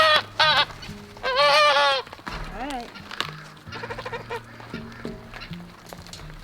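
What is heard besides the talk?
goats bleating on a farm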